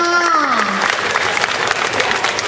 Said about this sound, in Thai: ขอเสียงปรบมือให้กับน้องๆชุดนี้อีกครั้งหนึ่งค่ะ